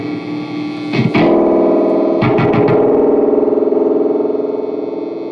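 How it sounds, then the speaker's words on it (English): A loud distorted tone from a solid-state Univox U65RN guitar amplifier under repair, with a few sharp struck hits, then a long ringing, shimmering spring-reverb wash that lingers and slowly fades, heavily drenched in reverb. "That's some crazy reverb."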